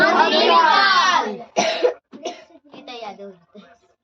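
A child coughing several times in short, harsh bursts, loud and close, with brief pauses between the coughs and a longer first burst.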